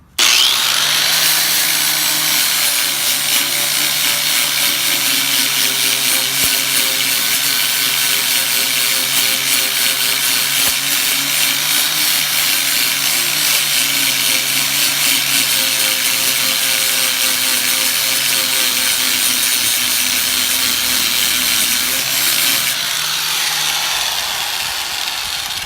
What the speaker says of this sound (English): So I've switched to the disc to do the lighter stuff, and it works a lot better than the belt sander.